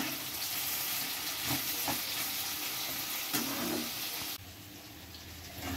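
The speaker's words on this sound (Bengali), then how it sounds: "এই সময়তে দিয়ে দেব বেগুন আর টমেটো। এবারও হালকাভাবে ভেজে নেব" Eggplant and tomato fry lightly in a pan with a steady, close sizzle, broken by a few stirring scrapes and then a brief quieter stretch near the end.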